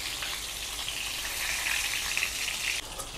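Eggplant frying in a pan on low heat makes a continuous soft sizzle that holds steady and eases slightly near the end, with no talking.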